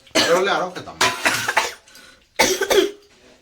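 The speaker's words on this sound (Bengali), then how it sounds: "ওদিকে চপের তরকারির মশলা করছে ওই জন্য এত পরিমাণে কাশি হচ্ছে" A person nearby coughs in three harsh, close bursts, irritated by pungent green chilli and spice fumes from curry masala cooking in a home kitchen.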